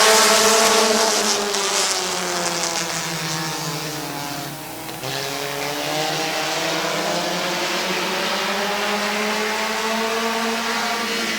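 Race cars roar at Midvale Speedway just after the green flag, engines loud and close, rising and falling in pitch as they pass, with no talk over the continuous drone.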